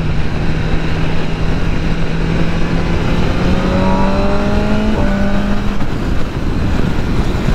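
A BMW S1000RR sport motorcycle at Daytona Bike Week accelerates hard, its engine note climbing in pitch through several quick upshifts, loud and close under steady rushing wind noise.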